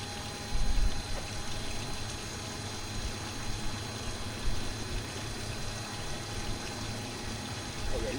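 Waste water drains from an RV holding tank at a lakeside dump station in Perris, a steady low rushing flow with occasional louder gurgles, with no talk over it.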